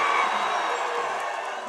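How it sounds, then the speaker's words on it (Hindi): A large crowd at an outdoor political welcome event in Jharkhand roars and cheers loudly and continuously, a dense sustained wash of voices. "हेमंत सर के लिए एक जोरदार हल्ला और ताली बजा के स्वागत कर दो"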